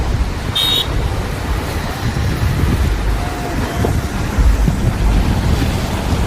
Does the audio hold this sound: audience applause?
no